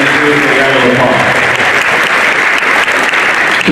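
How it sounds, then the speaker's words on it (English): Sustained applause from an audience at a high school athletic signing event, loud and steady throughout, with a murmur of voices mixed in. "that's a round of applause"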